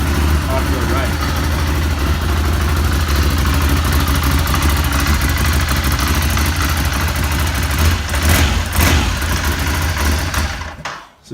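A 2018 Ducati Scrambler Desert Sled motorcycle idles on its stock exhaust outdoors in freezing winter cold with snow on the ground, a steady, loud, low throb running continuously before cutting away near the end.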